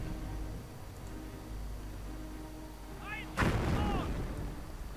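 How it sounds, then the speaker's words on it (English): Mortar rounds boom in a war video game: a steady low rumble of distant fire, then one sharp, loud blast with a crackling tail, and faint whistling sweeps just before it. "mortar rounds flying here and there"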